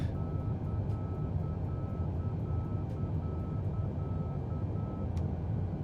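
Outer marker beacon tone beeping in a flight simulator during a Boeing 787-10 departure, a steady faint tone over a constant low engine and cockpit rumble.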